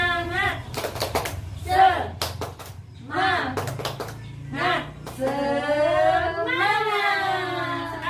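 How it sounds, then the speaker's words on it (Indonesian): A group of women doing the tepuk semangat spirit clap beat out sharp rhythmic hand claps in quick clusters, alternating with spoken prompts and ending in a long drawn-out group chant. "mari kita tepuk semangat dulu ya Bu ya"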